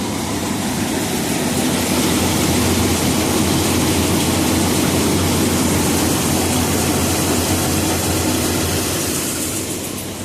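A Punjab Reinforce 990 threshing machine runs steadily for the whole stretch, a loud, continuous broadband mechanical roar with a low engine drone underneath and no talk.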